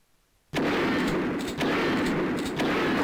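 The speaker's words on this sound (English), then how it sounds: "Okay, Using my shotgun." A shotgun fires in the Duke Nukem 3D mod Platoon TC, one loud sudden blast after a near-silent start, followed by sustained roaring, rumbling noise with a few further sharp reports, close and heavy, no talking.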